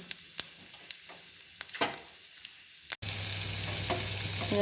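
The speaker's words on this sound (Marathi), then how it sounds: "मोहरी तडतडली की त्यात जिरे घालून घेते" Mustard seeds crackle and pop in hot oil with scattered sharp snaps over a low sizzle. Partway through, cumin seeds go in and a louder, dense, continuous sizzle takes over, close and steady.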